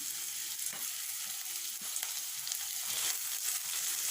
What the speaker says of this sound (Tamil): வெங்காயம் லைட்டாக வதங்கினதும் நம்ம இந்த ஈரலை வந்து போட்டுக்கலாம்